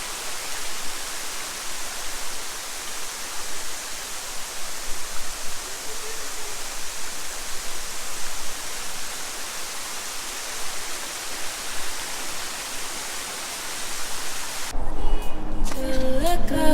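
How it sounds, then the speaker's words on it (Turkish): Kuzalan waterfall in Kuzalan Nature Park, eastern Black Sea region, roaring as a steady broadband rush of falling water, loud and continuous throughout, with a sharper louder burst near the very end. "Kuzalan Şelalesi'ndeyiz."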